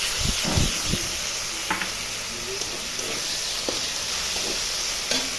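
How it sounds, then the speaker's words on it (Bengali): Spice paste hits onions frying in a pan, producing a bright, continuous close sizzle and hiss, punctuated by scattered knocks and scrapes of stirring. "এই যে ভাজা ভাজা হয়ে আসছে, এর মধ্যে এখন মশলাটা দিয়ে দিব।"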